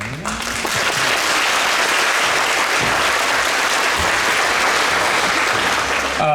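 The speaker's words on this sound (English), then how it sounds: "And you can give them a round of applause right in their corner." A concert audience at a middle school band winter concert applauds school staff, a dense, steady roar of many clapping hands that stays loud and even throughout.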